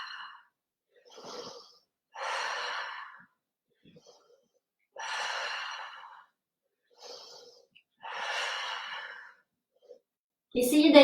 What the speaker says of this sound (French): Et on se concentre sur ces respirations.